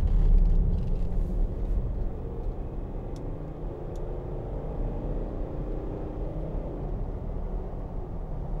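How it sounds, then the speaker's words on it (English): A 2009 Range Rover Autobiography's 3.6 TD V8 diesel pulls steadily under acceleration, a low, even engine rumble from inside the cabin with road noise and no talk. "Just give it some gas coming up here, because the V8 sounds tremendous even for a diesel"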